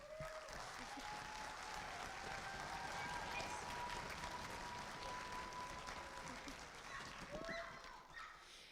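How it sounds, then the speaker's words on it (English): Audience applause at a school beginning band concert in a performing arts program, steady and fairly loud throughout, with a crowd clapping together and some faint voices mixed in. "Let's give everyone and yourselves a round of applause."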